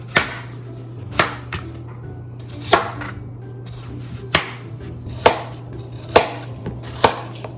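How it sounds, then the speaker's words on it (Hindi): A knife chops potatoes into thick round slices on a board, about ten sharp, close knocks at an uneven, unhurried pace over a faint steady hum. "आलू जो आपने लिए मैं अपने किसी भी स्टाइल से काट सकते हैं"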